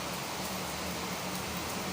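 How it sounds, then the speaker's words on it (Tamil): Steady rain falls continuously in Chennai during a storm, a dense, even hiss of drops hitting surfaces, fairly close and unbroken throughout. "இங்கே பாருங்க மழை பெய்யுது"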